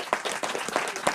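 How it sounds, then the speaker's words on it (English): An audience claps for municipal councillors at an evening discussion event in Amsterdam, a fairly quiet room with distinct individual claps standing out through a short, uneven burst. "I want to give a round of applause for all the municipal councillors"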